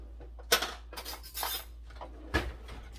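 A metal spoon scraping cooked fish flesh off its skin on a plate, a few sharp clinks and short scrapes spaced apart over a low steady hum, close and clear.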